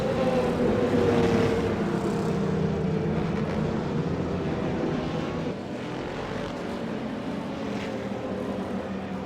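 GT1 race cars in the iRacing video game at Mosport, a mix of high-revving Aston Martin and deep-throated Corvette engines, forming up behind the pace car; a steady, continuous engine drone holds throughout without talk.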